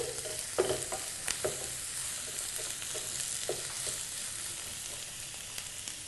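Ivy gourd and onions fry steadily in hot oil with a low, continuous sizzle, broken by a few sharper scrapes and knocks as a spoon stirs them around the pan.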